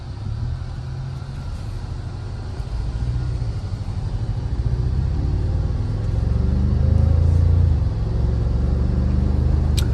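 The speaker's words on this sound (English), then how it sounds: "From the sound of the exhaust, the way it idles, the way it starts." Inside a fourth-generation Toyota Tacoma TRD Pro on the move, the engine and exhaust make a low, steady rumble that builds gradually as the truck gathers speed, with no one speaking.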